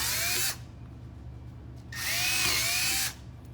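A power drill bores through a clamped wooden board for a light box in two whining bursts, a short one and then a longer one, with a quiet pause between.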